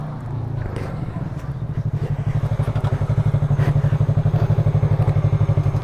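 Motorcycle engine rising in revs at speed with rapid rhythmic thumping firing pulses during a downshift, loud and close, steady throughout with no talk over it.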